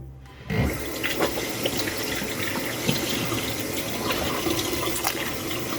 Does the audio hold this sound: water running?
yes